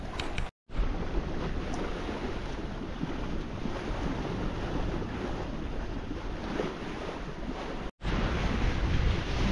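Light wind and ocean waves rush past a sailboat moving at about six knots off San Clemente Island, a steady close blend of wind buffeting and water wash, broken by two brief dropouts.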